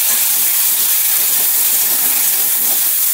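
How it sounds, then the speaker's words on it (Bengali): Hog plums sizzling in hot oil in a wok after dried chillies, a steady loud hiss and spatter of frying with no talk, even and continuous throughout. "আমড়াটা হালকা ভাজতে হবে"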